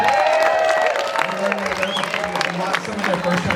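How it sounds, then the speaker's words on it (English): An audience applauds the beginning band at a school open house concert, steady clapping from a crowd with some scattered cheers while a voice talks over it. "they deserve a big round of applause"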